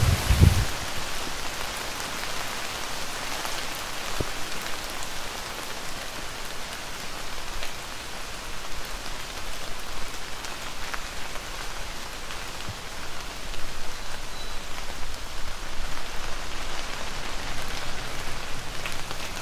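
Pouring rain falls during a safari game drive in Botswana, making a dense, steady hiss of drops on surfaces that holds evenly for many seconds, close and enveloping, with no voices.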